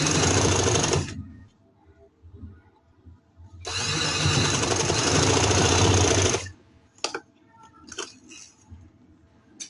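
A sewing machine runs in two long stitching bursts, the first about a second and the second about three seconds, while a full sleeve is sewn. Short clicks and handling noises fall between and after the runs, and no one speaks.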